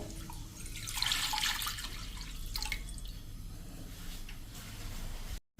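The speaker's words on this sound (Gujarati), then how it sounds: "આપણે એમાં પગ ડૂબે ને એટલું 2 લીટર જેવું પાણી નાખી દેવાનું છે" About 2 litres of water pours and splashes into a vessel for a foot soak, swelling early and then settling into a softer trickle before stopping abruptly.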